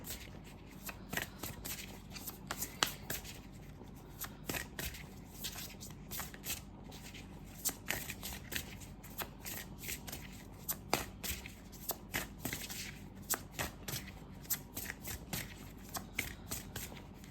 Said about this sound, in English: I'll just do some shuffling.